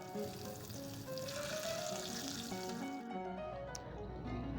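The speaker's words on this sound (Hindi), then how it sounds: "हमारे गोला कबाब फ्राई हो चुके हैं" Chicken gola kababs frying over medium heat in a pan, a dense continuous sizzle with a faint watery hiss, close and steady with no speech.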